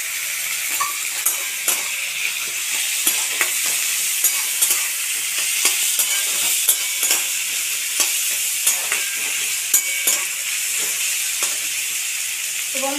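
Chopped tomato frying and being stirred in a kadai, giving a steady bright sizzle with repeated scraping and clinking of a spatula against the metal pan, close and without talk.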